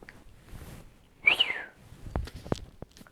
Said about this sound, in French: Je sais bien siffler, je sais.